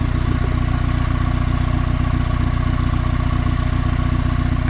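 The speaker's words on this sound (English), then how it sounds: "I can really hear that engine crankcase movement and venting" A turbocharged Honda Civic engine idles steadily up close, a dense continuous rumble with a faint rhythmic chuff from crankcase venting, no voices over it.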